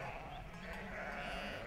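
Sheep and lambs of an Idaho mountain flock, gathered to be sent to market, bleat together in a steady, overlapping chorus of wavering cries, fairly faint and continuous with no voices.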